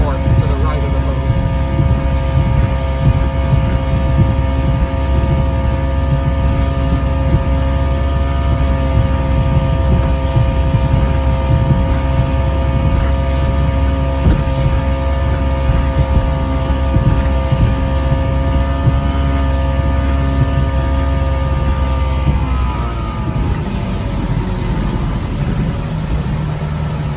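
A classic boat motors through Puget Sound with a steady, loud engine drone and wind buffeting the microphone, the engine easing slightly near the end.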